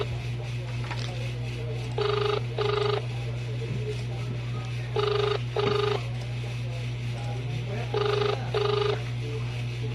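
An outgoing phone call rings back with three double-ring pairs at steady intervals over a constant low electrical hum.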